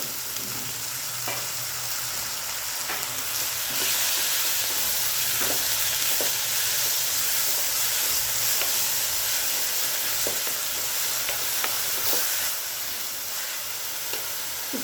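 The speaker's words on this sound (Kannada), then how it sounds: "ಇದು ಆಯಿಲಲ್ಲೇ ಒಂದು ಸ್ವಲ್ಪ ಮೆಂತ್ಯ ಸೊಪ್ಪು ಗರಿಯಾಗಿ ಫ್ರೈ ಆಗಬೇಕಾಗುತ್ತೆ" Fenugreek (methi) leaves fry in hot oil for a Karnataka-style methi huli rice, giving a steady, close sizzle with scattered crackles and occasional stirring scrapes throughout.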